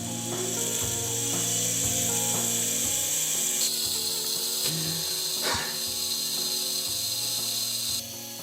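A homemade PCB motor whines at very high speed, above 33,000 RPM, a steady high-pitched tone with some mechanical rattling and ticking underneath that cuts off sharply near the end.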